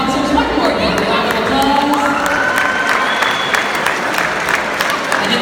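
Crowd at a boxing event applauds two boxers after a bout, loud sustained clapping with cheers and shouts, while a ring announcer's amplified voice runs over it.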